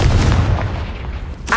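Confringo blast spell in the Hogwarts Legacy video game, a continuous rumbling boom that fills the whole moment, with a sharper burst near the end.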